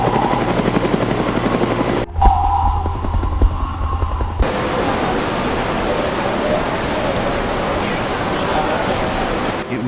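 A rescue helicopter landing in the mountains thrums loudly and continuously, a dense whooshing roar with a rapid low chop, briefly shifting in tone before settling back.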